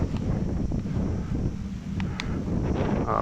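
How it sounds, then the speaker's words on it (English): Wind gusts steadily around rocks on an Edale hilltop, a continuous close rumble of buffeting against the microphone with no voices. "Wind blowing around the rocks here."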